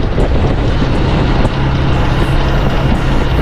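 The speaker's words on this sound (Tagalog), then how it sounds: "Lakas ng hangin dito." Strong sea wind buffets the microphone in a steady, loud roar with low rumbling gusts, heard by the waves at a shoreline at night, with no voices.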